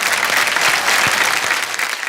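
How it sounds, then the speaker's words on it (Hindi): An awards-show audience at the Filmfare Awards claps loudly on cue, a thick continuous wall of applause with a few sharper individual claps standing out close by. "मैं आप सबके लिए मैं चाहूंगा कि आप खुद अपने लिए जोरदार ताली बजाएं।"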